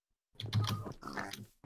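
Short grunting pig oinks from Minecraft, a few quick snorts close and clear against a quiet background.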